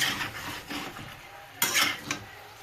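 Chicken and potato pieces cook in a little water in a pot over a high flame and are stirred with a spoon, making soft scraping strokes and a brief louder clatter over a low background sizzle, with no talking.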